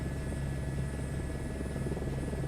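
An H125 helicopter in a flight simulator game hums with a steady rotor and turbine drone, close and continuous, with a fine whine sitting above the low thrumming bed and no speech.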